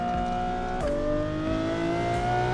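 Steady engine drone of a car driven through the LA Canyon map in Assetto Corsa on PC, pitch sliding with a shift partway through, loud and continuous with no talk.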